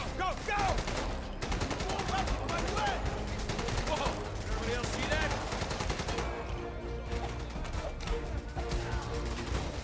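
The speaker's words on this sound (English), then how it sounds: "Heavy fire over here." Heavy, continuous rifle and machine-gun fire in Raid: World War 2, set around a barracks, with rapid overlapping shots and a shouted voice over the din.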